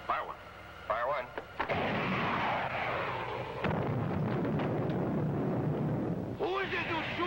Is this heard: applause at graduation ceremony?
no